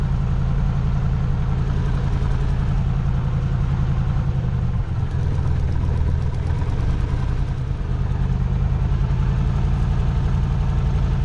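A historic 1931 Coupe light aircraft engine ticks over while the plane taxis, giving a loud, steady low-pitched drone with a throbbing pulse that continues unbroken, with no voices.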